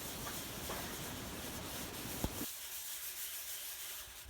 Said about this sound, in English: And then I changed to the 220 sandpaper.